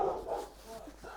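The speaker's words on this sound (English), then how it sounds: "Anybody that's new, she just barks at him, regardless." A dog at a field barks at a newcomer, a few quick barks close by, partly mixed with people talking.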